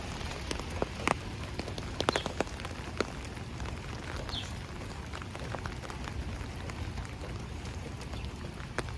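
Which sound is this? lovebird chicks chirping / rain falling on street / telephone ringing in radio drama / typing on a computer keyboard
rain falling on street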